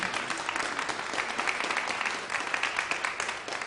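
Steady audience applause at the opening of the Liberty Trust Hotel in downtown Roanoke, a dense, even wash of clapping lasting a few seconds at moderate volume.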